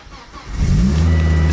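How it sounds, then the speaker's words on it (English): A Volvo T5 five-cylinder engine cranks and catches, quickly rising into a loud, steady idle close by. "Let's turn it on. Lovely 5-cylinder engine."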